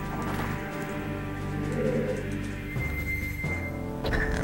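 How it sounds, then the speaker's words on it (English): Cooing bird calls from the video game The Legend of Zelda: Majora's Mask sound over steady game music, soft repeated coos in the foreground. "I do not want to get hit by a bird and knocked off."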